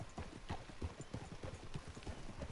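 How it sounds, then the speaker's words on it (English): Horse hooves clip-clop at a steady walking rhythm in the video game Red Dead Redemption 2, a dapple grey horse, with quiet, evenly spaced thuds and no talk. "nice horse."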